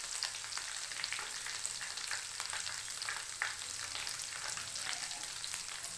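Garlic, bay leaves and black cardamom frying in hot oil, a steady close crackling sizzle that runs unbroken with faint stirring underneath.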